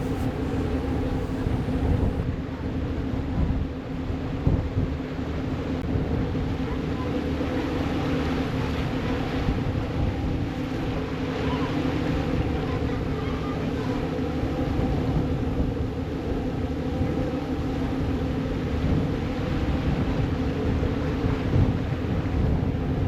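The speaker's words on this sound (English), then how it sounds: "there's a car ferry, which is the one we are traveling on today" Car ferry crossing from Split to Rogač on Šolta, with a constant low engine drone and rumble mixed with wind buffeting the microphone throughout.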